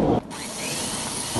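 Power drill boring a pilot hole into the wall of an RV, a short steady whine that starts after a brief break and holds evenly to the end, close by with no talk.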